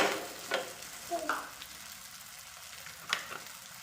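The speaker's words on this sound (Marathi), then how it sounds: "हे लो टू मिडियम हीटवरतीच आपल्याला दोन्ही साईडनी भाजून घ्यायचं आहे" A barnyard millet and potato cake pan-roasting in oil over low to medium heat gives off a close, steady sizzle and frying crackle, with a few short scraping clinks standing out above it.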